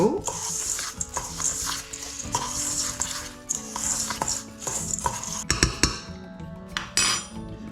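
Crushed Maltesers and Horlicks stirred into biscuit crumbs in a bowl, a run of close scraping and clinking strokes with a spoon against the bowl.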